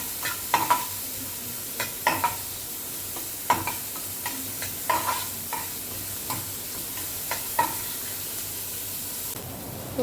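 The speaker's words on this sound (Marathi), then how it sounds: "आता आपलं तेल गरम झालंय. याच्यात टाकूया कांदा." Finely chopped large onion frying in hot oil, a steady close sizzle with a series of sharp clinks and scrapes from stirring spread unevenly through it, with no voices.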